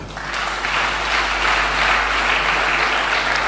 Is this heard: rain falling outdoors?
no